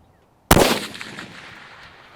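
A single rifle shot fires at a 500-yard target, a sharp loud crack followed by a rolling echo that slowly decays, heard alone after near silence.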